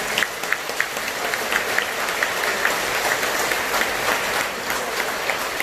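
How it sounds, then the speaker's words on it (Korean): An audience at a Buddhist dharma assembly in a temple hall applauds a sung performance, with dense, steady clapping that holds evenly at close range for the whole stretch and no talk over it. "잘 불렀는데 한 번 더 박수 한번 쳐주세요"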